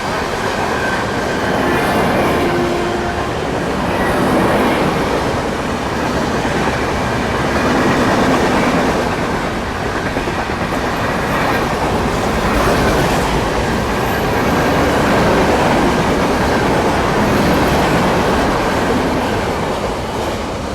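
Andhra Pradesh Express passenger train running on rails, heard close and loud as a steady rumbling roar with clattering wheels and faint squeals throughout.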